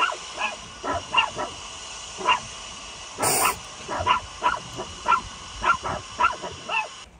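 A small dog yips and barks repeatedly in short bursts, fairly close, with a brief hiss of noise partway through.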